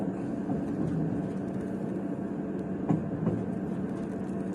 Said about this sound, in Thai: รถไฟจะจอดเข้าหมู่บ้านแล้ว